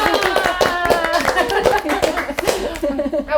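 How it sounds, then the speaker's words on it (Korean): A small group of people claps in quick, uneven rounds close by, with voices talking and laughing through the applause before it fades out. "박수 보자."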